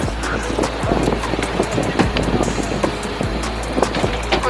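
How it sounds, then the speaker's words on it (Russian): Steady wind buffets the microphone in a light sea breeze outdoors in Béziers, France, a continuous low rumble with gusty swells and scattered clicks and knocks throughout. "No, it's windy."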